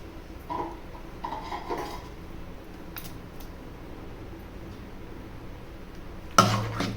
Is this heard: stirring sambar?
yes